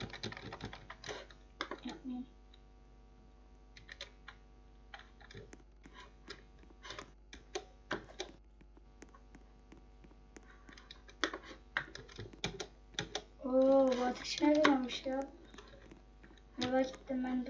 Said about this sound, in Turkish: klavyenin sesi geliyorsa özür dilerim